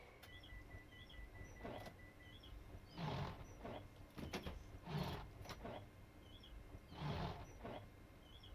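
A Networker electric train pulls away from Teynham station, a low, steady rumble and hum that swells in a few broad surges as it gathers speed, with no voices.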